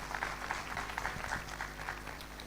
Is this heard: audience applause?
yes